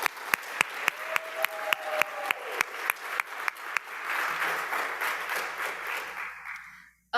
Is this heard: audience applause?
yes